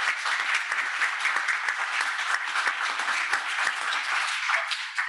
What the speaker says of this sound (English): So just a quick round of applause for Josh.